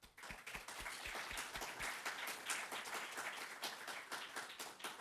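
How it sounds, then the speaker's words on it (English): Audience at a conference clapping for the speakers: a sustained round of applause from many hands in a hall, moderately distant and fairly quiet, with no talking. "So I would like to ask for applause for our speakers, please."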